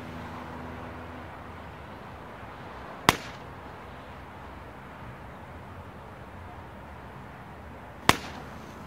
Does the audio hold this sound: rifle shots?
yes